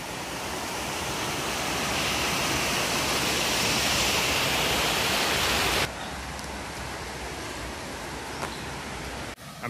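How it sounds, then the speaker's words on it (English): Waterfall cascading beside the Mountains to Sea Trail, a steady loud broadband rush of falling water that drops abruptly to a quieter, more distant wash partway through. "looks like we have another waterfall"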